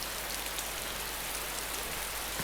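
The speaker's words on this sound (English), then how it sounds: "because it's raining so hard" Heavy rain pours in the video game DayZ, a loud, steady wash of dense raindrops hitting surfaces, unbroken and without any voices.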